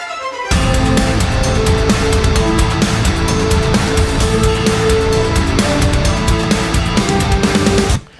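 Dense, loud electronic drone from a track, starting abruptly and holding steady for about seven seconds with rhythmic pulses running through it before it cuts off.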